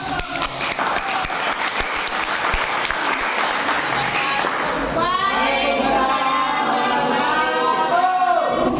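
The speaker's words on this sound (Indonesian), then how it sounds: "Beri aplaus." A classroom of students applauds a group presentation, dense close clapping that stops abruptly halfway through and gives way to noisy children's chatter and shouting.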